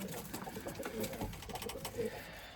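Limoni breeding pigeons coo steadily in a loft, soft overlapping throaty calls running throughout over a constant background hum.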